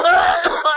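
A person coughs in a short burst of harsh, voiced, breathy sounds, loud and close, with no other sound around it.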